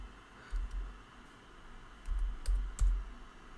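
Keys on a computer keyboard are struck in a few short, quiet bursts of clicky taps separated by pauses, close by with no talking.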